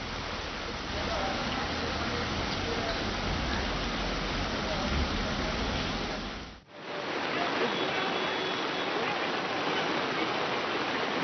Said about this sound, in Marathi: प्रचंड जोरदार पाऊस आहे